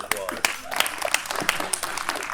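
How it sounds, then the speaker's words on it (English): Theatre audience applauding a round for themselves before a Picnic Theatre Company play, a dense steady patter of many hands throughout, with a voice speaking over the clapping. "so please give yourself a round of applause"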